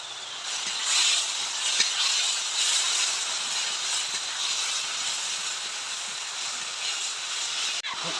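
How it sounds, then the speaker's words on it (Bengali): Shrimp hits a hot pan and sizzles in a steady, bright hiss that holds evenly throughout, close and fairly loud, ending with a brief clunk near the end. "এবার চিংড়ি মাছ দিয়ে দিচ্ছি"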